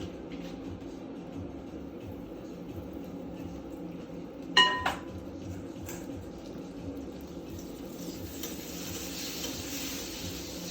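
Eggs frying in a pan of oil with butter added, giving a steady low sizzle throughout with a couple of brief sharp clinks near the middle; no talking.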